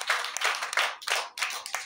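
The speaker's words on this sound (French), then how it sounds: "Applaudis pour le Seigneur." A church congregation claps hands together in steady bursts, loud and close, with brief pauses between rounds of clapping and no talk over it.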